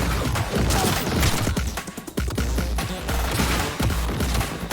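Turrets fire in the video game Cyberpunk 2077, a loud, continuous rattle of rapid automatic gunfire with crashing impacts throughout.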